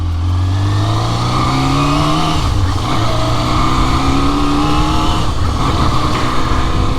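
A Yamaha Zeal 250, a 250cc four-cylinder motorcycle, rides through a housing estate and climbs through its gears. The engine pitch rises and falls with each shift, loud and steady and close by, with no speech.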